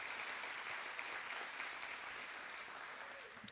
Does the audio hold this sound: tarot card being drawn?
no